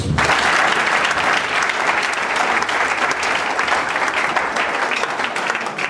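A church congregation clapping during a deliverance service, loud, dense and steady throughout without pause.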